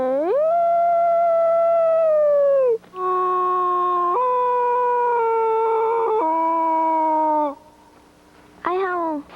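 A person gives long, loud drawn-out howls imitating a wolf to call a wild pack, in several sustained wavering calls with brief breaks between them and a final rising howl.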